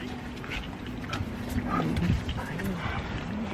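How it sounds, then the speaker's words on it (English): A dog whimpers and whines in short, rising and falling bursts, fairly close, against steady outdoor background noise, with people talking nearby. "Such a cute dog."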